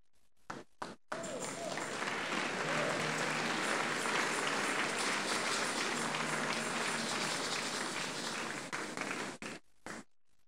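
Church congregation clapping after a sermon, a loud, steady wash of many hands that starts abruptly, holds for several seconds and then thins out into scattered claps.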